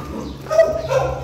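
A small dog gives a couple of short, high yipping barks nearby, with a steady low hum underneath.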